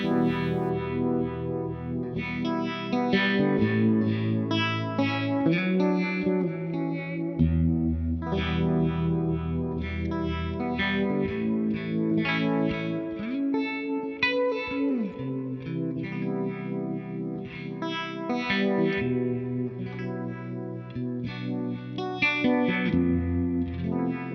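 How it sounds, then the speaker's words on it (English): An electric guitar with chorus and vibrato modulation plays a wavering, shimmering passage, sustained chords and bends continuing throughout with no talking. "but actually gives you a chorus and vibrato sort of effect"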